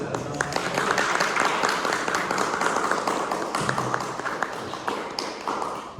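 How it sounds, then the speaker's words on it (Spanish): A crowd applauds, a dense patter of many hands clapping steadily, fading slightly toward the end, with scattered voices underneath. "un aplauso"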